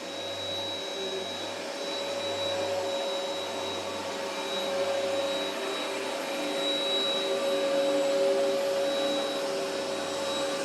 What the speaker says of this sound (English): pull the trigger as you push forward.